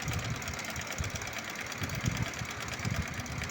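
A sewing machine stitches a salwar cuff on buckram, a close, steady mechanical whir with rapid rhythmic needle thumps running without pause.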